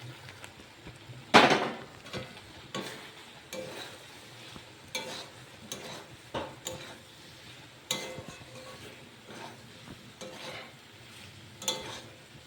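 Potato, cauliflower and capsicum sautéed in spice paste for a paneer vegetable dish: a repeated scrape-and-clack of a spatula stirring in a rhythmic pattern over a soft, low sizzle.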